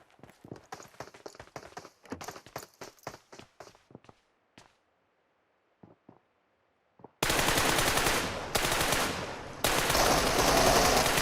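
Rapid gunfire from PUBG Mobile, a sharp string of close shots in quick bursts, then scattered single shots and silence before loud dense game noise takes over.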